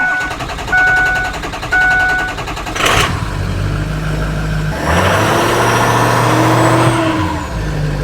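A Ford 6.0 diesel truck engine starts and settles into a steady idle, loud and close, with a deep low hum and some mechanical clatter, no talking.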